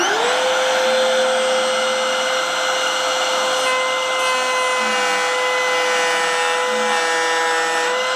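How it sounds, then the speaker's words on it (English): Wood router cutting freehand into wood on a T-bucket hot rod build, a steady loud high whine with a constant motor tone throughout, no talking. "let's see if we can freehand with this router"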